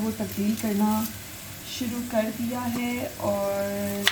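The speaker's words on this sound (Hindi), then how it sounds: "शायद आपको पीछे से मेरे चिकन के कुक होने की आवाज़ आ रही हो।" Chicken sizzles and fries in a pan, a steady low crackle running beneath a woman's continuous close-up talking.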